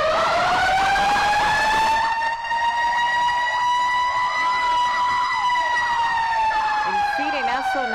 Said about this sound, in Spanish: Escuchen las sirenas.